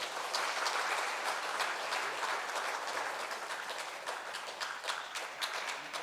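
Sustained applause from a church congregation during a Sunday service award presentation, a dense, steady patter of many hands clapping that fills the room evenly without pause.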